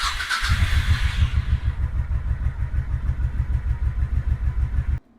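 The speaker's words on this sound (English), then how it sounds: "We're gonna come over here and start it up and let it run and idle for about 3 to 5 minutes." A Honda Shadow Sabre 1100 motorcycle engine idles close by, a loud, steady, throbbing V-twin pulse with an even lumpy rhythm after a brief start-up rev, then it stops abruptly.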